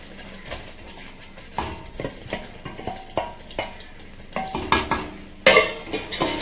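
Paneer and capsicum in butter are stirred in a large nonstick kadai, with a spatula scraping and tapping in a steady rhythm over a soft sizzle, growing busier toward the end.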